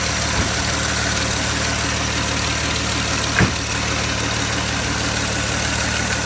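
A 1932 Oldsmobile engine idles steadily with its choke open, a constant low mechanical hum with a faint regular knock, plus one brief thump partway through; no voices.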